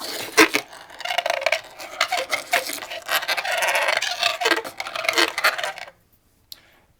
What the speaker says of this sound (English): the contour allows the comb to work on the cardboard like this